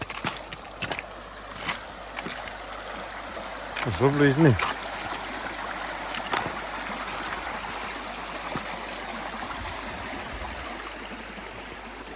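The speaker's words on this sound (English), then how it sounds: "Back to the nice little stream. You'll hear it babbling this morning" A small stream babbles steadily through the whole stretch on a cold, frosty morning on the English–Scottish border, a soft continuous trickle close by, with a brief spoken remark partway through.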